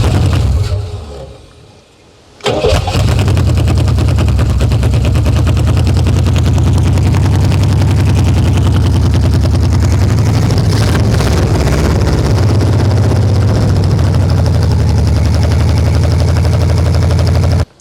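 A 1968 Oldsmobile Toronado that sat for 46 years, its engine cranking and catching, then running loud and close with a rough, steady roar that holds until a sudden cutoff.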